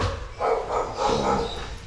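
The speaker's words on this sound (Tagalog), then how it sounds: "Nagagalit yung aso. Akala niya kukulin yung baby niya." An angry golden retriever and Aspin mix mother dog, guarding her puppies, gives a run of four or five loud, close barks in quick succession, with no talk over them.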